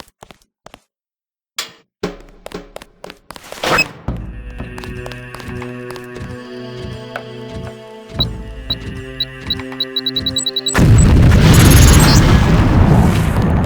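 A LAM mine in Deus Ex drops with a few sharp clanks and thunks, then a layered mechanical beeping builds before a loud explosive roar takes over and holds to the end.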